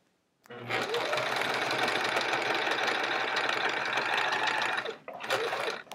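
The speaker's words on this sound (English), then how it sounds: "Ooh, I can sew a little faster without things shaking." A sewing machine stitches quilt rows in one long, loud, steady burst of rapid mechanical whirring, stops briefly, then starts again.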